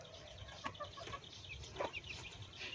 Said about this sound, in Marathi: बघू शकता हे पिल्ले किती भारी खेळतायत बघा